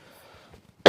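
After near silence, one short, sharp cough bursts out close by.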